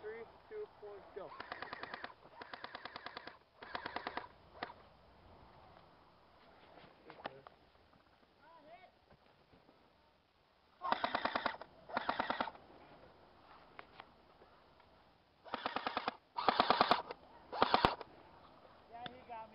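Airsoft guns fire in rapid bursts during an outdoor skirmish, several clustered strings of quick shots separated by quieter stretches. Players call out faintly in the background.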